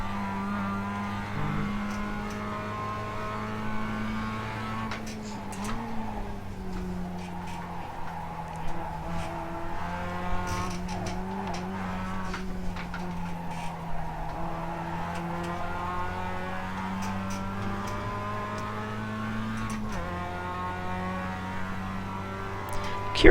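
A Mazda MX-5 laps Sebring in a racing game, its engine droning steadily with rising and falling pitch through gear changes, alone and fairly loud throughout.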